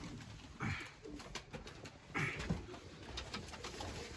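Tumbler pigeons in a loft give two soft, low coos a second or so apart over a steady background hiss and faint shuffling.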